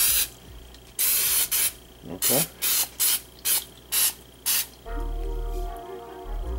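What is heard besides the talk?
olive oil spray can spraying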